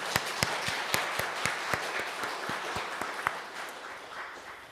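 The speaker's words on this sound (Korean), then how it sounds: "하나님께 영광의 박수 힘차게 올리겠습니다" Korean church congregation at a Palm Sunday service gives a round of applause: distinct, separate hand claps ring out over a softer wash of clapping, moderately quiet and gradually fading toward the end.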